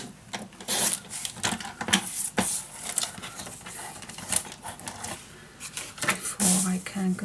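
Scrapbook paper is cut into straight strips, giving a run of short rasping, rubbing strokes at close range with brief pauses between cuts.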